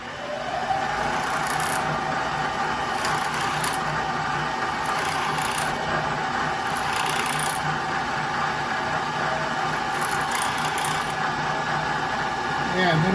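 A countersink drill bores into a broken lamp leg during a repair. It makes a steady, close mechanical whir with a light rattle that runs unbroken for the whole stretch.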